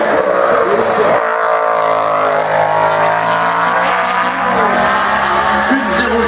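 An Alpine race car at the La Pommeraye hill climb roars past up close, its loud engine note rising and falling steadily through a gear change with no one speaking.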